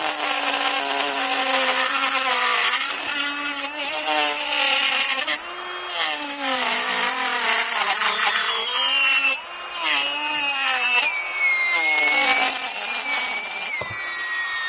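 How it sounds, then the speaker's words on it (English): A Makartt nail e-file drill with a small bit whirs steadily and loudly up close, its pitch wavering and dipping as it is loaded, with no talk over it. "Now, this drill sounds a lot louder"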